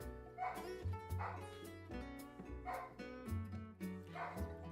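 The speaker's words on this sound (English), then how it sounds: "She's barking at me." A female dog barks insistently indoors, a run of close, sharp barks and yips in an uneven rhythm, with a voice talking faintly beneath.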